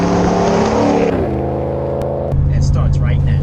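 A Ram pickup truck with an eBay muffler delete rumbles loudly up close, the exhaust note shifting pitch as the engine revs and settles into a deep, steady idle.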